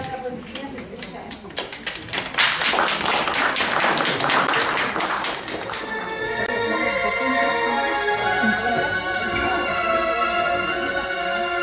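An audience bursts into clapping to welcome a singer onto the stage at a youth club concert, dense applause swelling after an announcer's voice and then giving way to music.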